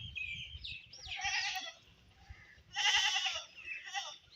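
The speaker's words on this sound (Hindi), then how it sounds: "क्यों चिल्ला रहे हो भाई? कैसे घास खानी? मेरी तरफ देखो बकरी, इधर देखो।" Goat bleating in a rural village during the rainy season, two clear cries with a pause between, close and fairly quiet over soft background noise.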